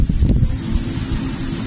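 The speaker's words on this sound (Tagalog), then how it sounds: "Tapos ang hangin, napakalakas." Strong wind buffets outdoors under an overcast sky, a continuous loud rumbling roar with gusty low-end pulses and no speech.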